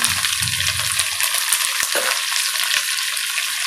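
Finely chopped large onions frying in oil for rice rava upma: a close, constant sizzling hiss with a few sharp ticks and clinks from the pan, and no voices.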